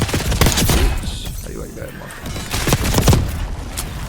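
Rapid bursts of video game gunfire, loud and close, with sharp repeated shots clustered at the start and end of the stretch and a quieter gap between, while someone talks over the firing.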